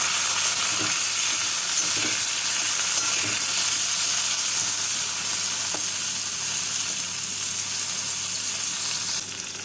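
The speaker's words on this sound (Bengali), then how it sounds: "তেলটাকে ভালো করে গরম করে নিয়ে বেগুনগুলোকে ভেজে তুলে নেব" Eggplant pieces fry in hot mustard oil in a wok, giving a steady, loud sizzle and crackle throughout, with a few faint stirring knocks and no talking.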